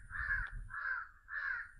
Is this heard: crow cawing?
yes